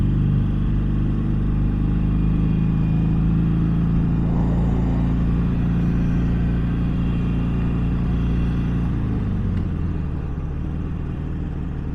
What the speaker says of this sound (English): driving around town on this bike